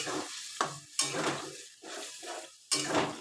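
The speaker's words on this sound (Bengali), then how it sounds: "কষানো হয়ে গেছে বন্ধুরা, এবার জল দিয়ে দেবো, গরম জল দেব।" Hot water hitting a sizzling spiced curry in a pan, sharp bursts of hissing and bubbling that surge and settle in several waves, close and loud, with scraping of a utensil against the pan.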